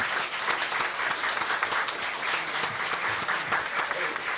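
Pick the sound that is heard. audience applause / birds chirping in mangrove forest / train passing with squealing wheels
audience applause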